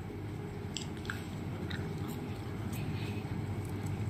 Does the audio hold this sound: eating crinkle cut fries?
yes